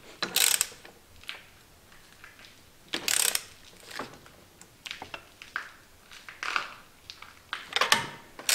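A hand ratchet tightens bolts on the gear selector bracket of an Opel Astra, giving short bursts of rapid metallic clicking separated by pauses, close and clear with no talk.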